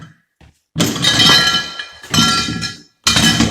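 Several loud knocks and scrapes of a foot-operated kick jack being kicked under a sheet of drywall, in three bursts separated by brief pauses, close and alone.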